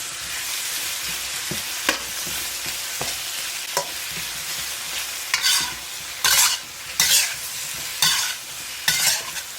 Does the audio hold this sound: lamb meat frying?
yes